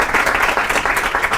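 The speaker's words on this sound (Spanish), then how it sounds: "darles un aplauso." Audience applause at a Red Cross Galicia event in A Coruña, a dense burst of clapping from many hands throughout, close and fairly loud.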